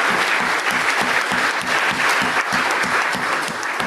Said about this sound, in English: Let's clap that.